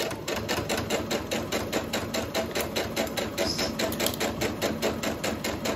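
A sewing machine stitches quilt fabric for a baby quilt at stitch length 2, producing a rapid, steady mechanical chatter of evenly spaced needle strokes, loud and close with no talking.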